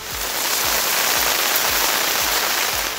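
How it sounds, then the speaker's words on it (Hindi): Heavy rain pours steadily over Karachi, a dense continuous hiss of drops on surfaces with faint rhythmic low thumps underneath, loud and unbroken throughout. "बरसात की आवाज दे रही है अलग ही अंदाज।"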